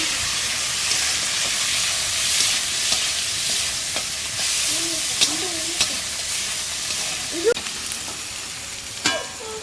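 Potatoes, onions and tomatoes fry in a pan at an evening village cooking session for noodles, a steady broadband sizzle running throughout with occasional sharper scrapes and clicks of stirring, close and moderately loud.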